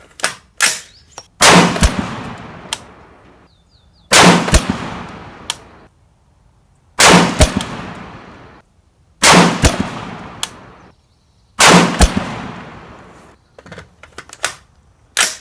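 Five loud, sharp rifle shots from an RRA 20-inch varmint rifle ring out at roughly two-second intervals for a five-shot group at a 100-yard range, with softer clicks and handling noises between the reports.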